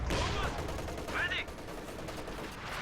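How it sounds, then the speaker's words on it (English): A T-70 tank fires shots through a hedge in a video game battle: a few loud gunshot bursts over rumbling battlefield noise, with a voice talking over them. "trying to flame and fire T-70 shots through the hedge"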